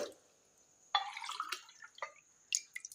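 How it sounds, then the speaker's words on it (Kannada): Water is poured from a cup onto sago pearls in a bowl to soak, producing faint, close splashing and dripping in a couple of short bursts. "ಎರಡು ಕಪ್ಪಿಗೆ ನಾಲ್ಕು ಕಪ್ ನೀರನ್ನು ಹಾಕ್ತಾ ಇದ್ದೀನಿ"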